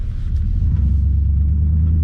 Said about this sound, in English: tractor tires plus rumble strip